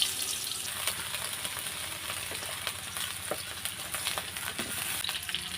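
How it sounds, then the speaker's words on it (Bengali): A large sliced potato frying in oil in a wok (kadai): a dense, continuous close sizzle with occasional crackles and stirring scrapes, with no talk. "আলুটা আমি এখন লাল লাল করে ভেজে নেব।"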